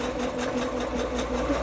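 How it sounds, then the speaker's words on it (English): Sewing machine stitching knit fabric, a steady continuous mechanical whir with an even rapid rhythm, close and moderately loud, running alone without talk. "And my sewing machine and knits don't always get along."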